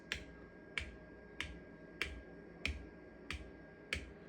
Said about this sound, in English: So let's do the finger tap test first.